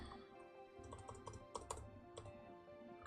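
Close computer keyboard typing while coding a C# and .NET Core chat bot, scattered quiet key clicks over a low steady hum with no talk.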